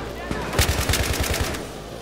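Rapid pistol gunfire in a co-op video game, a quick burst of about ten sharp shots in close succession, loud and near, lasting around a second.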